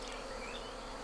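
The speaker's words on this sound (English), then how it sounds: "the bees keep swarming" A dense, steady buzzing of many bees swarming around a hive close by despite smoke, continuous and fairly loud with no voices.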